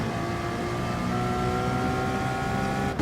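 A race car engine in the racing game GT Sport holds a steady, loud, high-revving drone throughout, with no voices over it.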